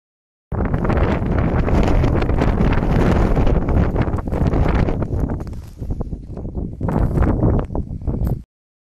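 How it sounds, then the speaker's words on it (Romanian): Strong wind sweeps snow across a dark mountain slope in the Făgăraș range, a loud continuous roaring gust with buffeting on the microphone that dips briefly and then surges again. "pe celălalt vântul ridică zăpada și o spulberă"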